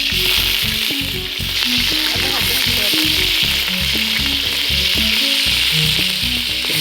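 Curry leaves, pandan and green chillies sizzle loudly in hot oil for chicken biryani, a dense steady crackle with repeated stirring strokes and scrapes running underneath throughout.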